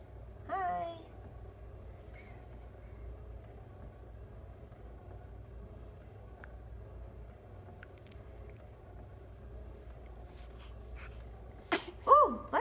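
A five-day-old baby sneezes in two small, quick bursts, one near the start and another near the end. The rest is a quiet, rumbling indoor background.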